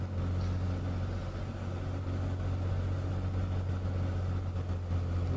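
A light aircraft's piston engine drones steadily in an A2A flight simulator during a short cross-country flight, a loud, even low hum with no talk over it.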